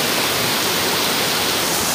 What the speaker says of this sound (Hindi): देखो कितनी तेज बारिश आ गई